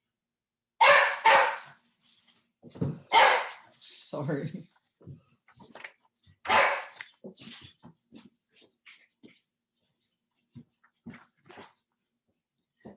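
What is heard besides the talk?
dog barking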